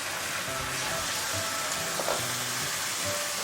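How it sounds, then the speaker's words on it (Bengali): Tomato added to hot oil with reddened garlic while cooking a raw jackfruit curry, giving a loud, continuous sizzle and crackle close by, with faint clinks of a utensil underneath. "রসুনটা যে লালচে কালার হলো তখন আমি টমেটোটা এই তেলে দিয়ে দেবো"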